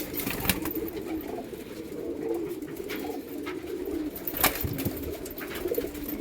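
Pigeons in a loft, including a black magnet pigeon, give soft low cooing calls repeated at a distance, with a few faint sharp clicks and flutters over quiet background hiss.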